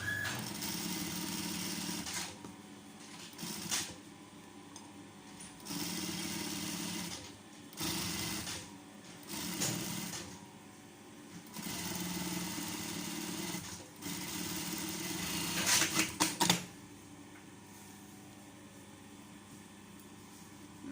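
Sewing machine stitching a seam on a zippered pillowcase, a close, steady motor whir running in several bursts of varying length separated by short pauses.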